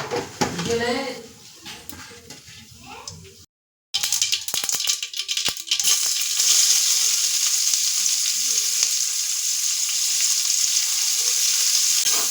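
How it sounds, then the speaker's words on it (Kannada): Onions frying in hot oil for a tempering in a village kitchen, a loud, steady sizzle with crackling that starts abruptly after a short break and runs continuously; a voice talks briefly at the start before the sizzle takes over. "ಈರುಳ್ಳಿ ಚೆನ್ನಾಗಿ ಫ್ರೈ ಮಾಡ್ಕೊಳ್ಳೋಣ"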